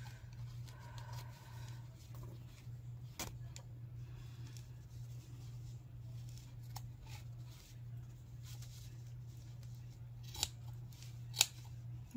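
Scissors snip through denim fabric around a jean pocket, a few sharp clipped cuts over a steady low background hum, fairly quiet and close.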